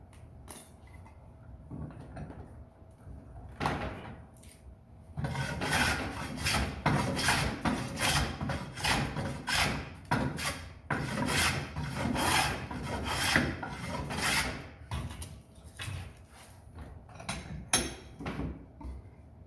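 Hand tools rasp and shave wood while a roof-frame joint is trimmed to fit for a carpentry licence exam. Steady, rhythmic scraping strokes run close and loud through most of the stretch, with a few knocks.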